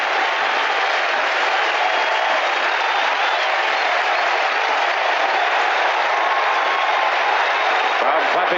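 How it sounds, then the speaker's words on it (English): A baseball stadium crowd claps and cheers for a strikeout during an ALDS Game 5 between the Brewers and Yankees, a dense, loud, sustained wash of applause. "Crowd clapping for the strikeout at 1-2."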